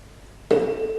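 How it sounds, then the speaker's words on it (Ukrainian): A tuning fork struck on its prongs with a rubber mallet gives a sudden attack, then one pure, steady tone that rings on clearly and alone after a quiet start. "При ударі гумовим молоточком по ніжках камертона він випромінює чіткий довгий звук певної частоти."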